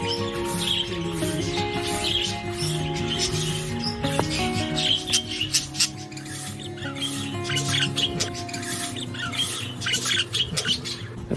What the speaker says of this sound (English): Specimens include budgerigars, cockatiels, zebra finches, and birks from Australasia.